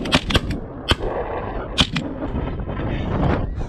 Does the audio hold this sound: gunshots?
yes